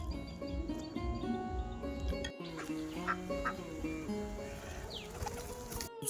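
Ducks quack and honk nearby in a farmyard where pigeons and chickens are feeding on chana dal, with repeated overlapping calls over a continuous murmur of background noise.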